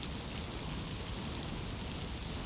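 Steady rain hisses in the Miasmata video game, a dense, even wash with no pauses and no talking.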